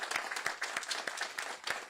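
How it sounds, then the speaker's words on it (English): Soft applause from a crowd at an Atlanta affordable housing event, a faint steady patter of many hands with individual claps standing out at an uneven rhythm, fairly distant and without talk. "Give them some love, a round of applause."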